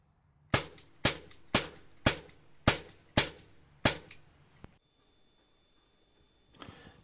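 Seven sharp pellet shots from a Crosman 600 air pistol crack out in quick, evenly spaced succession, each a loud snap with a short decaying tail, followed by quiet and a faint rustle.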